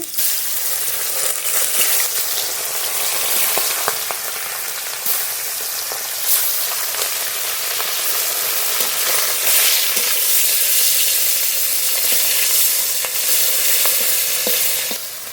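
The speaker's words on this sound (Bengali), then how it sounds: "বাটা মাছ ভেজে নেব" Bata fish frying in mustard oil in a wok gives a steady, loud, close sizzle that runs without a break, with faint crackles and no voices.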